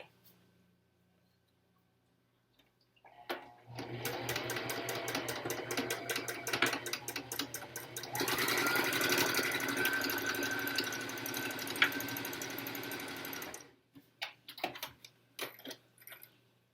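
A sewing machine back stitches an N95 mask cover in a sustained run of around ten seconds, its motor pitch shifting partway through, before stopping and leaving a few light clicks.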